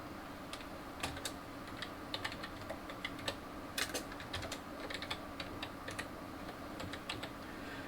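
Steady keyboard typing, a run of quick key clicks with occasional louder taps, close and clear over faint room noise.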